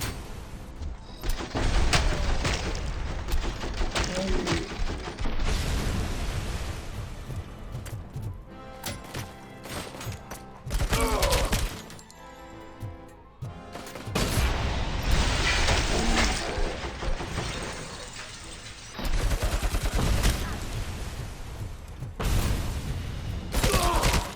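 Grenades and gunfire burst in the Robocop: Rogue City video game, with loud repeated booms and rattling blasts in several dense bursts, separated by brief quieter gaps of mechanical game noise.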